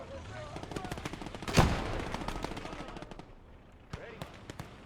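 Gunfire from the WWII strategy game Gates of Hell: Ostfront, rapid crackling bursts of small-arms fire with one sharp louder shot near the start and scattered shots later, under a voice.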